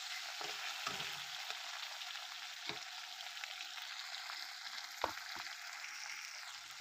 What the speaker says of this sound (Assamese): এতিয়া অলপ পিঁয়াজটো ৰঙচুৱাকৈ ভাজি বাহু মাছৰ মাথাটো ভাজি আছোঁ